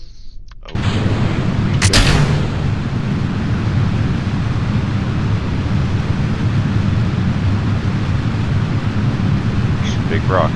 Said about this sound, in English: SAS is on, throttles at max.